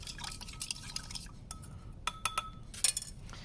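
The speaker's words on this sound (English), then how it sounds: "Now we add our sand, and we will stir this." A salt, sand and water mixture stirred in a glass container during a lab demonstration, giving scattered light clinks and taps of the stirrer against glass over a soft background hum, with no talking.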